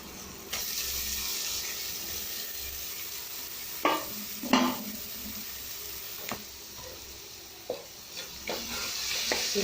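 Grated beetroot stir-fried in hot oil with onion pieces, ginger and salt, giving a steady close sizzle with a few sharp scraping stirs of the spoon, no voices.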